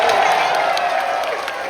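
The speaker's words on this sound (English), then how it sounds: "Let's give them one last cheer." A crowd at a Gran Turismo Manufacturer Cup race event in Los Angeles cheers loudly, a dense continuous wash of shouting, whooping and clapping close by.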